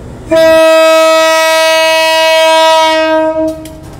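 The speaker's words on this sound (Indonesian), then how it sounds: "Klakson khas Sumatera nih. Karena memang ini lokomotif bekas Sumatera." A former Sumatra diesel locomotive's horn blasts loud and close in one sustained, steady chord lasting about three seconds before cutting off.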